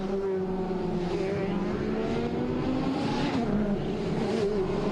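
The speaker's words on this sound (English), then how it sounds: "Cars ready to head off on their warm-up lap here at Oschersleben prior to race 8 of the championship" Touring race cars on a warm-up lap at Oschersleben in Germany during a 2006 WTCC round, engines droning steadily together with a continuous, moderately loud hum and slight rising and falling tones, no voices.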